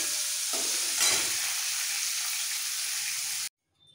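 Cauliflower and potato frying in hot oil in a home kitchen, a loud steady sizzle with stirring, cutting off abruptly after a few seconds.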